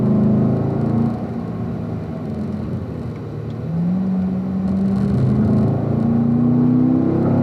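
A car accelerating on a course while waiting for a turn, its engine a steady close rumble with rising and falling whirring tones, loud and continuous without talk.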